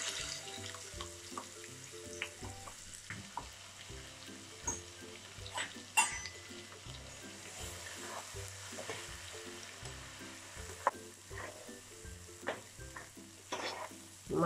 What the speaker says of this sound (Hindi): जीरे के बाद तेज पत्ता और दालचीनी ये डालनी है, इसमें मसाला डाल के फ्राई करना है।